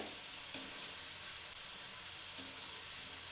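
Parboiled potato fries frying in hot oil, a steady soft sizzle with a few faint stirring clicks, quiet and continuous with no talk.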